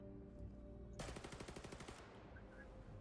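Rapid automatic gunfire from a Call of Duty: Black Ops 6 trailer, a dense burst of about a second of close, loud shots over a low background score, then fading into ambient rumble.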